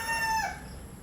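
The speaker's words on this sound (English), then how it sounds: "Them chickens, I'm telling you." Chickens call nearby outdoors, a short bright crow-like cry followed by a soft trailing cluck over faint background hiss.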